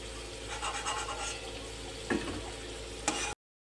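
Potatoes frying in hot oil give a steady crackling sizzle, with a couple of sharp scraping clinks from stirring partway through, before the sound cuts off abruptly.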